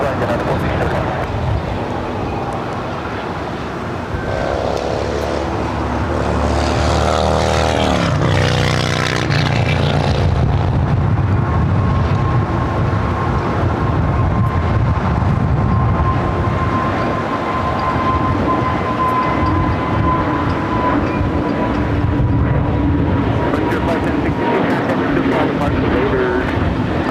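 A jet airliner takes off from runway 25 Right at Los Angeles International Airport, a sustained loud engine roar that swells and holds steady over tower radio chatter and a spotter's voice.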